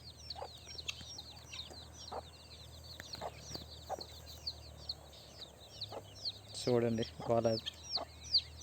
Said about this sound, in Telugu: ఇదిగో మా బుజ్జి కోడి పిల్లలు.